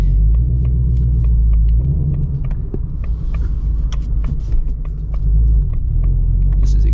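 A loud 2024 Mustang GT's engine rumbles deep and steady while driving, a constant heavy low drone with faint clicks and ticks over it.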